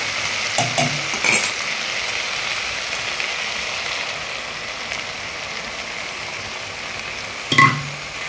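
Ground poppy seed and mustard paste frying with tomato in a pan, a continuous soft sizzle broken by a couple of utensil clinks and scrapes against the pan at the start and near the end.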